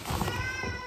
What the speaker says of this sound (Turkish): Kedinin sesini duydunuz mu?